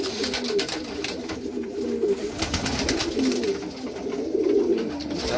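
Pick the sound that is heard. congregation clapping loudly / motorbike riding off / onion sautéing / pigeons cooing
pigeons cooing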